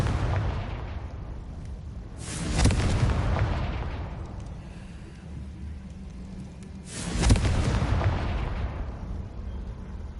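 In Hogwarts Legacy, the Confringo fire spell hits with two deep, booming explosive blasts a few seconds apart, each fading out in a long rumbling tail over a low game ambience.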